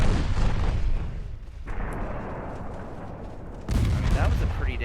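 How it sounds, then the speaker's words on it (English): A torpedo strikes a warship in the naval game Ultimate Admiral Dreadnoughts, producing loud, dense blast rumble that falls away and then erupts again in a second heavy burst, with a voice talking over it. "that was a pretty nasty torpedo hit"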